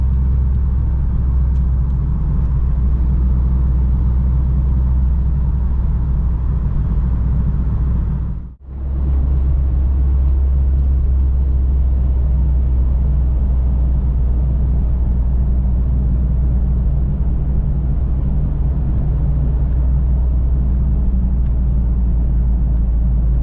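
Steady, loud cabin drone from a 1992 Vauxhall Cavalier CD cruising on a long-distance motorway run, a constant low engine and road rumble that briefly dips once before carrying on unchanged.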